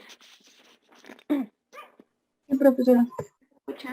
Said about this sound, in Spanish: porque si no van a escuchar más al perro de mi vecino que a mí